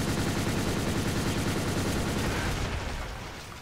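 A picked-up enemy gun firing in the video game M.A.R.S.: a rapid, continuous automatic burst of loud shots that holds steady for nearly three seconds, then tails off.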